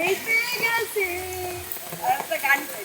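Heavy rain pouring steadily outdoors as a broad wash of patter, heard beneath a person speaking throughout.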